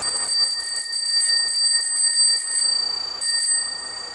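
Bright, continuous ringing of ice cream truck bells, steady and fairly loud throughout with slight swells in volume, with no speech over it.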